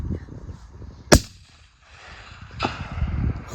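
A single rifle shot cracks out loud and sharp during a deer hunt outdoors, then echoes and fades, with low handling noise and rustling around it.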